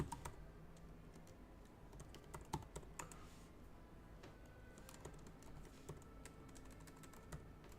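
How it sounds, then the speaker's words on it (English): Steady keyboard typing on a computer keyboard, a run of quick clustered keystrokes lasting several seconds, fairly faint and close, alone with no talk. "Let me type it in."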